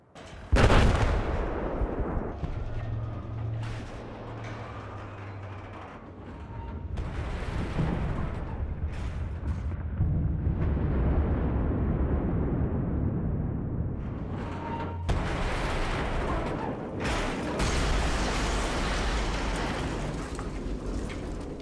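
A C4 charge detonates to bring down a radio telescope support cable in Battlefield 4, a loud booming blast followed by long rumbling collapse and scattered gunfire and further explosions across the map.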